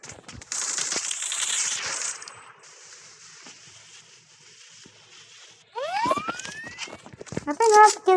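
Grenade blasts and crackling gunfire from an online shooter video game, sharp bursts over continuous game noise, with someone talking over the action.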